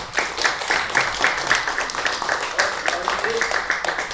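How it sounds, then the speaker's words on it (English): A martial arts class claps for an instructor, a steady patter of hand claps filling the room at moderate volume, with some voices mixed in underneath. "Big round of applause for Ashley, guys."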